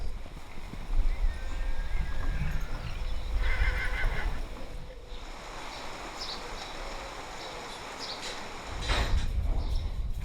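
Horses whinny in short bursts near the start and again toward the end, with hooves clip-clopping and outdoor ambience throughout; no one speaks.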